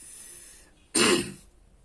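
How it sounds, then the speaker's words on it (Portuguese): A single throat clearing, a short harsh burst about a second long, close to the mic in an otherwise quiet room. "A garganta aqui está com um pigarro incomodando"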